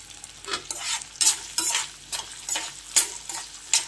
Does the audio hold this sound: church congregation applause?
no